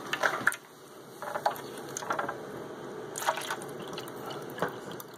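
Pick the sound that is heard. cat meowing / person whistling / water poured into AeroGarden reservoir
water poured into AeroGarden reservoir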